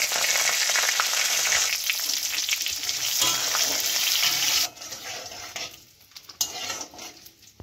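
Meat and whole spices crackle in mustard oil in a wok, a dense close sizzle with stirring scrapes that cuts off abruptly, leaving quieter clatter and faint bubbling.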